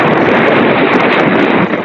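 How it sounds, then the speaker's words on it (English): Steady, heavy wind buffeting the microphone, a constant broadband roar with no breaks. "It's windy."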